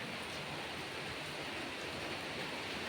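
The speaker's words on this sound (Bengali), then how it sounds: "বৃষ্টি পড়ছে এখন এই দেখো বৃষ্টি পড়ছে দেখাচ্ছি তোমাদের" Steady rain falling at night outside a balcony, a dense even hiss with no pauses and no voices.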